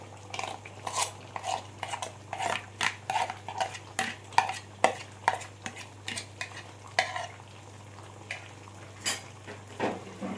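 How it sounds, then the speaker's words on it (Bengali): Mutton stir-fried with a cashew, onion and yogurt paste, a rapid run of spoon scrapes and clanks against the pan over a light sizzle and low hum, close and rhythmic, slowing toward the end, no talking. "আবারও আমি মটনের সাথে ভালো করে কাজু বাদামের পেস্টটা কষিয়ে নেব"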